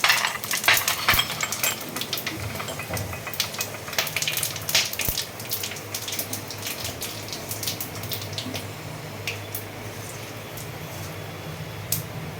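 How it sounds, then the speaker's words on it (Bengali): Bay leaf, dried chilli, whole garam masala and cumin frying in hot oil, a crackling sizzle with sharp pops and stirring, busiest at the start and settling into a quieter steady fry. "এরপরে আমি দেবো তেজপাতা শুকনো লঙ্কা গোটা গোটা গরম মশলা জিরে সব আছে দিয়ে দিচ্ছি একসঙ্গে"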